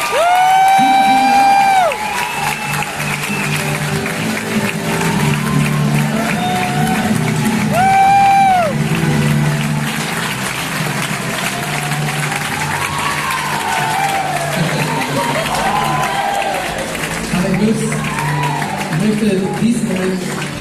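Loud crowd applause and cheering after a show in Mallorca, sustained clapping with whoops and shouts from a large audience, continuing throughout with some voices rising above it.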